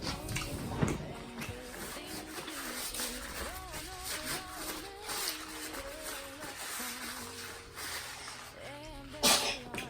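A sneeze at a home meal table, sounding as a brief sharp burst late in the clip over steady background noise and tonal household sounds, with no speech.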